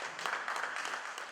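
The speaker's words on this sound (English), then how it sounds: "Let's give him a round of applause." An audience at a university workshop gives a keynote speaker a brief round of applause, a steady dense patter of many hands clapping, moderately distant and fairly soft.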